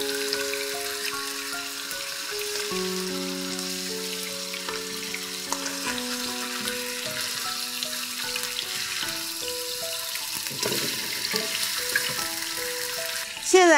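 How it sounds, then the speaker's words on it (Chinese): Fish head and tail of a large croaker frying in hot oil in a wok, flipped to the second side; a steady sizzle sits under continuous background music, with a brief clatter at the very end. "反面煎一下"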